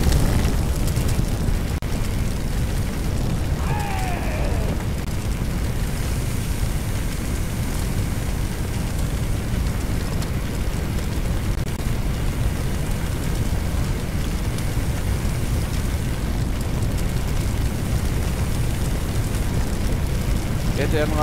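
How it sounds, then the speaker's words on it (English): A house fire in Firefighting Simulator roars with a steady, dense, loud rumble that barely changes, with faint crackle in it and one brief whistling tone near the start. "fire, lots of fire."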